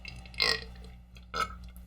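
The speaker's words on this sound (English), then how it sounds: "when men could just burp in peace." Two distinct burps, the first louder and the second shorter, close and clear against a quiet background.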